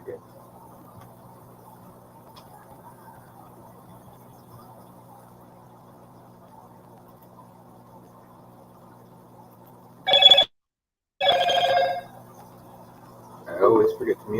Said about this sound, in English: I always forget to mute my phone.